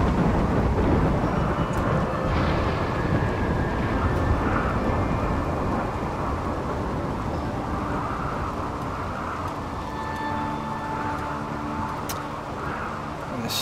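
A thunderstorm in the video game Rimworld, with heavy rumbling thunder and rain-like noise rolling on continuously, loud at first and easing slightly, with occasional game effect clicks.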